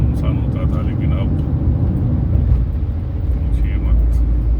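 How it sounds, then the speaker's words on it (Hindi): Constant low rumble of busy city road traffic near a flyover, with vehicles passing and a crowd bustling, and a voice talking over the steady drone. "गाड़ियों की, लोगों की चहल पहल, भाग दौड़ इतनी ज़्यादा है"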